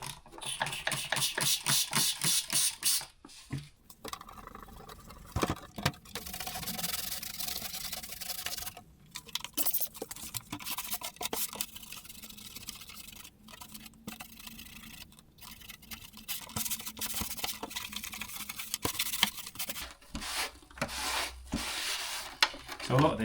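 A cloth wipes and rubs the plastic fairing of a 1999 Suzuki GSXR 600 barn-find motorcycle, making close, scratchy strokes in irregular bursts separated by brief pauses.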